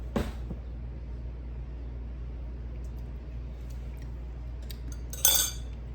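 A green spoon clinks and scrapes briefly in a cordon bleu casserole dish during tasting. There is a sharp clatter near the start, then a low steady room hum, and a bright scraping rattle just before the end.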